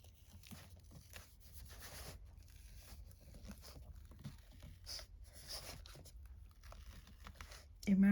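Cardstock paper being pulled apart by hand during a craft project, a run of soft crinkling and tearing rustles close by that continues steadily, ending in a louder crackle.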